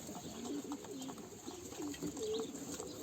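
Several pigeons coo softly and repeatedly nearby, their low throaty calls overlapping against a quiet background hum.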